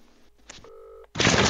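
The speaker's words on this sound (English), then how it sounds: "I'm calling Jonjo" Telephone dialing tones from a phone, a short burst of steady paired beeps held for about half a second, followed by a loud burst of broadband noise.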